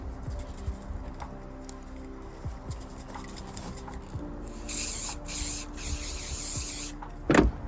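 Spray is applied to a surface to strip leftover sticker tape and glue, heard as a few hissing bursts toward the end after quiet handling noises, close and fairly loud.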